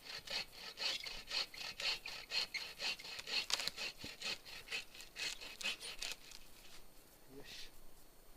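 A hand saw cutting into a somewhat rotten tree trunk outdoors, with steady rhythmic rasping back-and-forth strokes, about two per second, moderately close but fairly quiet, tapering off near the end.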